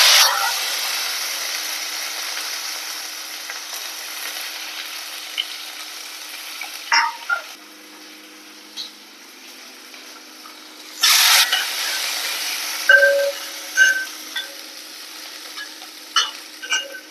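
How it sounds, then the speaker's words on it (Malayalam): Onion and curry leaves fry in a pan for vendakka thoran, a soft continuous sizzle with intermittent sharp stirring scrapes and clinks of a spoon against the pan, heard close with no talking. "നമുക്ക് ഉള്ളി കറിവേപ്പിലയും കൂടി ഇട്ട് കൊടുക്കാം"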